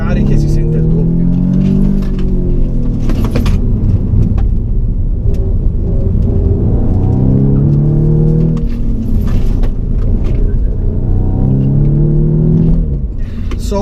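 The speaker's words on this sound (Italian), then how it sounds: "si aprono gli scarichi e si sente il doppio" Audi S3 engine revving with its exhaust valves open, heard from inside the car as a deep, loud rumble that swells in repeated surges while someone talks over it.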